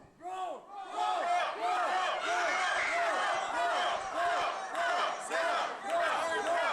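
A wrestling crowd at a tag-team match, Ethan Carter III and Robbie E. against the Whirlwind Gentlemen, roars and chants loudly and continuously, dense with overlapping voices throughout.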